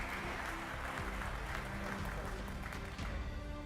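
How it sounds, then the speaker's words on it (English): Steady audience applause at an awards event for a global desalination innovation prize, a dense wash of clapping from a full room running evenly throughout, with a faint voice murmuring beneath. "A big applause for all of them, please."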